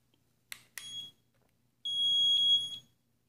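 An RG-306 tester for finding the conductive coated side of Low-E glass sounds off in a quiet room, two short clicks and then a shrill, piercing electronic beep that holds for about a second.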